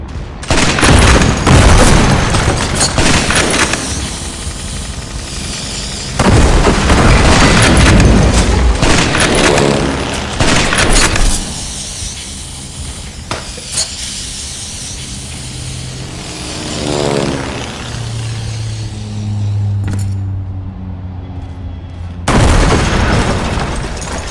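Gunfire and explosions in the World War Heroes video game: loud bursts of automatic fire and heavy booms, dense and continuous, with brief quieter gaps between volleys.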